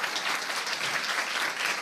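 A church congregation breaks into sustained applause, a steady even wash of many hands clapping together, moderately loud and without talk.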